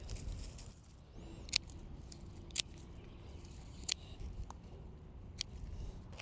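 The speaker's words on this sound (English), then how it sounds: "we're just going to carefully cut each stem off" Garden shears snipping Russian sage stems, a handful of faint, sharp, separate clips spaced a second or so apart over quiet outdoor background.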